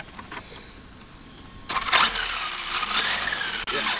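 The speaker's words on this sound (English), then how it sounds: "It's just the tires rubbing on that body." A brushless 4300kv IMEX/VRX Samurai RC car with aluminum chassis makes a steady whirring buzz as its rear tires rub against the body, rising sharply louder midway and holding with a brief drop near the end.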